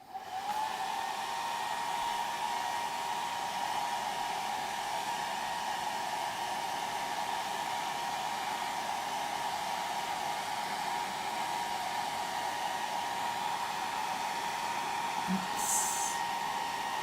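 A hair dryer blows over a wet watercolor painting of a Peruvian tiger lily, a steady close whirring hum held evenly from start to finish with a brief click near the end.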